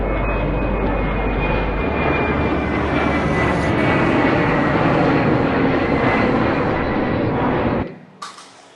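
An airplane takes off with a loud, steady engine roar that swells and holds for several seconds, then abruptly cuts away to near silence with a faint trailing sound.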